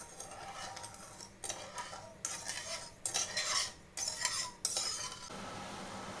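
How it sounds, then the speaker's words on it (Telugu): Sugar is stirred into water in a pan to dissolve it for gulab jamun syrup, making close scraping, swishing strokes in repeated bursts, with no talking. "ఇప్పుడు వాటర్లో చక్కెర మొత్తం కరిగేంత వరకు అయితే ఒకసారి బాగా కలిపేసుకుందాం"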